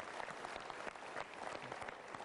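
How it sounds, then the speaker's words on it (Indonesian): Dense, steady applause from a talk show audience fills the space, sustained and even at a moderate distance. "kita berikan tepuk tangan"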